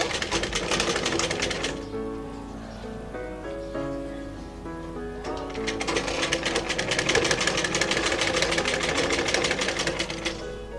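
A sewing machine runs steadily while stitching elastic onto a cloth face mask, a close, continuous rapid mechanical chatter that eases briefly midway before picking up again.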